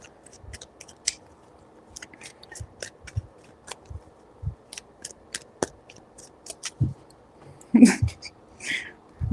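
A deck of tarot cards is shuffled and handled up close, giving soft, irregular clicks and taps with a louder flurry of card sounds near the end, and no talking.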